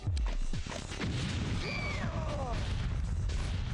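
Squad gunfire in the video game X-COM: Apocalypse, a rapid cluster of loud booming shots and bursts at the start, followed by a sustained rumble with whistling projectile sounds sweeping across.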